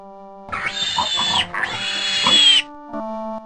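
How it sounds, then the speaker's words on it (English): A pig's oinking grunts from the MS-DOS Kids Zoo baby animal adventure game, two synthesized snorting bursts played loudly and alone, with electronic game tones at the end. "A pig goes."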